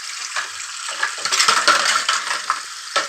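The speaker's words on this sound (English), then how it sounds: "Just ignore the sound of dishes and stuff falling." Clattering and rattling of dishes and utensils in a home kitchen while a baked potato is prepared, a busy scraping, knocking jumble with sharp clinks, close and fairly loud, no talk.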